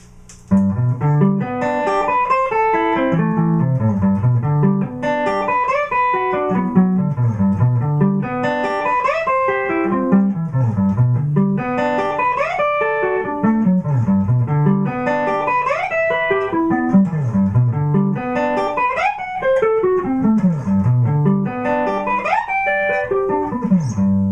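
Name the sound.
electric guitar sweep-picked arpeggios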